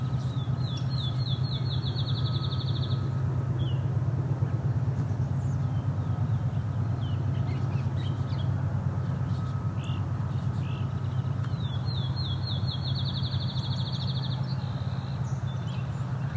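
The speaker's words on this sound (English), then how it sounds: "Appears to be some fledgling song sparrows in an argument." Fledgling song sparrows give two separate bursts of rapid, high, trilled notes, each lasting a few seconds and heard at a moderate distance over a low, continuous engine-like rumble.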